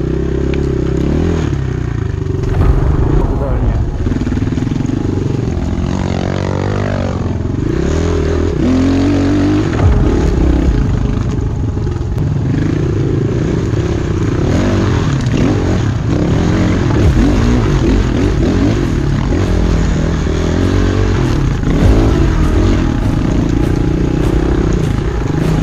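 Several enduro motorcycles ride off together on an autumn outing, their engines revving and droning loudly and continuously with clattering, close and dense throughout.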